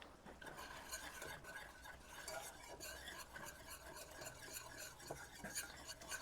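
A margarine and flour roux is stirred in a pan, giving a soft steady scraping and faint sizzle, quiet and continuous.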